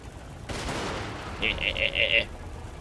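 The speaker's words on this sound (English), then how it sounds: "Let's take off the melee mode and shoot them," Dwarf units firing their ranged weapons in the fantasy strategy game Total War: Warhammer II, a burst of overlapping shots followed by a short string of sharp rhythmic cracks, close and moderately loud over busy battle noise.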